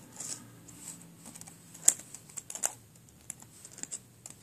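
Someone types on a small laptop keyboard, producing quiet, irregular key clicks with occasional sharper taps, close up and with no talking.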